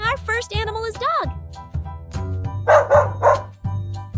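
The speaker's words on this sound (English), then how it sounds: "Our first animal is dog." A few quick dog barks ring out close and loud after an animated, singing-style voice and music, part of a children's counting lesson about farm animals.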